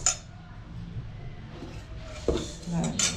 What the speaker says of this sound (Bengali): একটু জাস্ট কড়াই নেড়ে নেওয়া